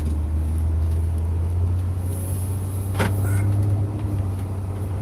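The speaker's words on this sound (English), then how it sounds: "Oh, you're on the bus." Steady low engine rumble of a moving bus heard from inside, with road noise throughout and a brief sharp hiss or clank near the middle.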